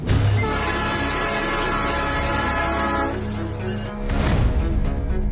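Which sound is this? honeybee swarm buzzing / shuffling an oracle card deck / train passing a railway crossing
train passing a railway crossing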